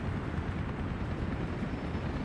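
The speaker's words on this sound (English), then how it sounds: "It's freaking loud with all these helicopters, dude." Helicopters in the city-building game Workers and Resources: Soviet Republic drone as a steady, dense low rumble, loud and continuous with no break and no voices.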